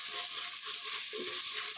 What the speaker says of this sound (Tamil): இஞ்சி பூண்டு சேர்த்துட்டு அதுக்கு பச்சை வாடை போகிற வரைக்கும் கிளறி விடணும்